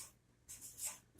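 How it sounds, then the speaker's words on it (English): Pen scratching across paper as a short handwritten note is written, two quiet, close strokes of faint scribbling in a calm living room. "I'm going to write to my friend Nev."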